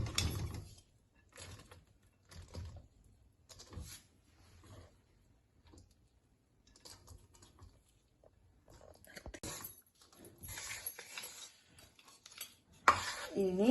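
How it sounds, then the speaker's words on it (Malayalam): Cooked rice tipped into a hot pan and stirred with a metal spoon for Kerala-style lemon rice, giving intermittent scraping, clinking and rustling bursts with pauses between, fairly quiet and close, with no talk. "ഇനി നമ്മൾ അതിലേക്ക് നമ്മുടെ ചോറിട്ട് കൊടുക്കുകയാണ്"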